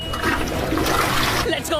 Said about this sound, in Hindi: तुम बाथरूम ढूंढकर फ्लश करने में सबसे बेस्ट हो